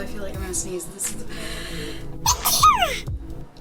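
A single sharp sneeze bursts out amid quiet talking, followed by a brief high squeaky sound.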